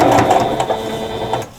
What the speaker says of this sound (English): I'm going to take this to the machine and sew that